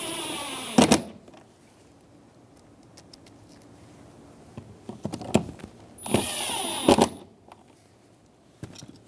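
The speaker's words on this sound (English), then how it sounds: "Install the screws for the handle." A power tool drives screws into the front exterior door handle reinforcement on a 2000-2007 Ford Focus, heard as two short, close bursts of whirring separated by quieter handling noises.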